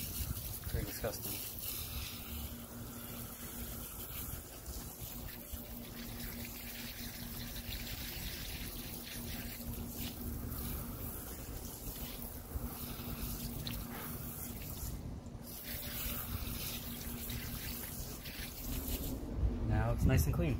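A continuous wash of spraying water hisses steadily for a long stretch as a car wheel on a 2004 Toyota RAV4 is rinsed, with a voice talking faintly underneath.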